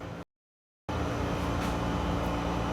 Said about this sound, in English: you can hear the constant hum of an air conditioner